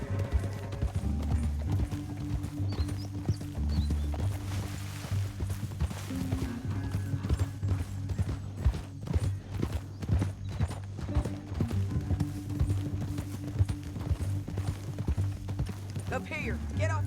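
Horse hooves gallop in a fast, rhythmic clip-clop, close and continuous, with a horse's whinny and voices talking over the pounding run, in the video game Red Dead Redemption 2.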